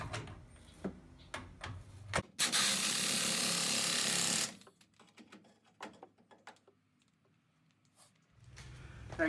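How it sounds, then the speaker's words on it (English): A brake rotor slides back onto the wheel hub of a Chevrolet Silverado, giving a loud two-second metallic scraping rush, with light clanks and taps in the quiet stretches before and after. "go ahead and slide that rotor back on"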